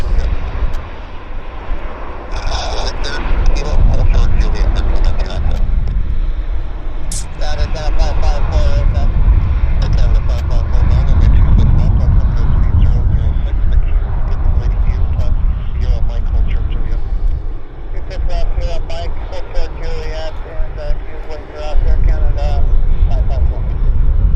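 An Airbus airliner at Vancouver Airport gives a loud, sustained jet engine roar that holds steady throughout, with people talking close by over it.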